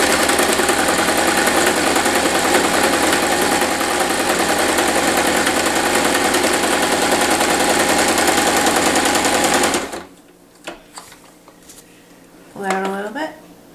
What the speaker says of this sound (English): When that you are sewing together your edges, you want to try and get the double stitch right